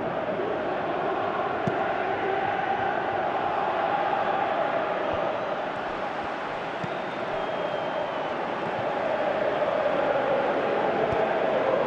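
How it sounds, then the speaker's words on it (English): A large stadium crowd roars steadily in Pro Evolution Soccer 2018, a dense continuous wash of cheering and chanting with no pauses, loud and sustained throughout. "you can feel and hear how the crowd are reacting to all of this"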